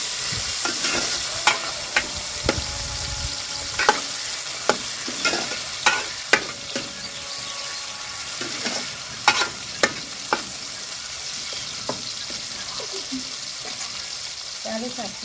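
Tomatoes frying in a pan on a stove for meal maker pulao, a steady sizzle with repeated sharp scrapes and clacks of a spoon stirring, close and fairly loud throughout.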